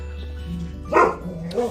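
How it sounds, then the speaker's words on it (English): Dogs bark indoors, one short, fairly close bark rising over a person talking, with a softer yip just after. "My dogs like to bark at squirrels,"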